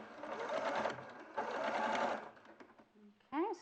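A domestic sewing machine stitches fabric close by in two fast runs of rapid mechanical chatter, then stops, with a voice briefly heard near the end.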